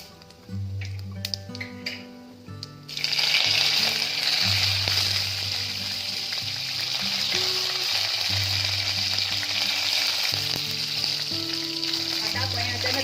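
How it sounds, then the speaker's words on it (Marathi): Curry leaves hit hot oil in a kadhai with cumin and mustard seeds. A loud, dense sizzle bursts in after a quiet start and then holds steady, with music playing underneath. "आता याच्यामध्ये कडीपत्ता घालूया"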